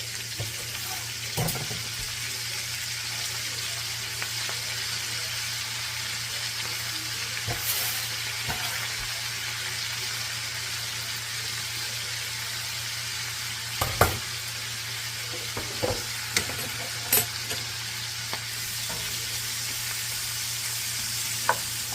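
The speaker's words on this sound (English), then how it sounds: "Now we're going to add the cabbage into the iron skillet with the bacon" Cabbage fries in bacon fat in an iron skillet, a steady close sizzle with a constant low hum, broken by occasional scrapes and taps as it is broken up and stirred.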